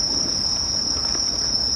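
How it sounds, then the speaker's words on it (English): Crickets chirp at night in Aoyama Cemetery, Tokyo, as a loud, continuous high-pitched trill that holds steady without a break, with no voices. "As long as the crickets are, the moment I step into the place, the cicada start to scream loudly."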